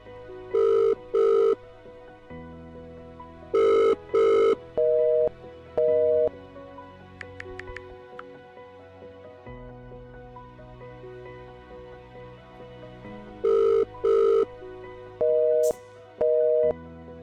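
A telephone ringtone rings during a call, paired electronic tones repeating in loud bursts, separated by a long quiet stretch of sustained background tones, then repeating again, close and clear with no voices.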